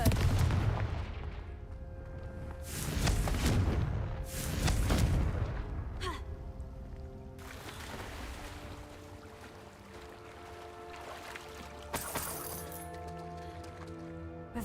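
Confringo spell explosions in Hogwarts Legacy, several loud booming blasts in quick succession with crackling decay, followed by quieter magical tones and a sharp final burst.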